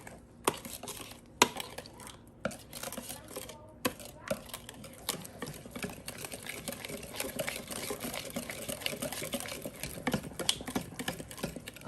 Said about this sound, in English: Let's whisk this in.